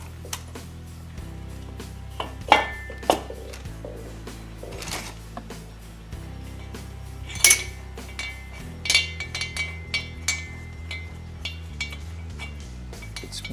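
Metal cylinder head being set onto the rear cylinder of a Harley-Davidson S&S 110 Sidewinder engine, with scattered clinks and light knocks of metal parts and tools over a low hum, near and fairly quiet.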